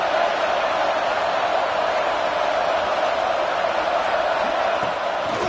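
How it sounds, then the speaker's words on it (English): A stadium crowd at a football game against South Carolina roars at full throat, a dense, steady wall of cheering that holds loud and unbroken throughout. "This crowd, full throat, spreading the eardrums and letting them know it's going to be a long day."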